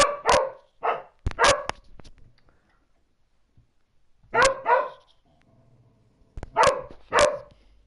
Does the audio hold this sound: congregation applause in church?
no